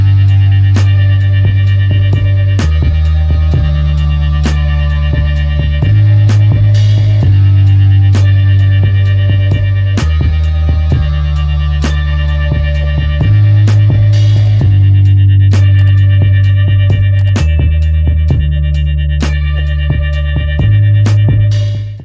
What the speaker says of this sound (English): let me play you a sample of the final beat that we're going to make today